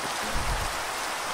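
Steady rain falling in a video game, a loud, even hiss of pouring rain that continues without a break.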